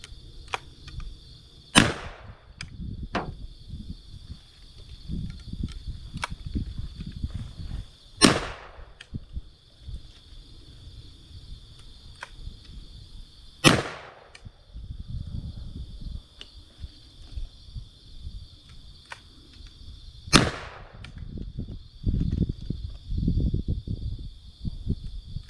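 Shotgun firing number 4 shot at a toy, four loud, sharp blasts spaced several seconds apart over a steady background hum with handling noises in between.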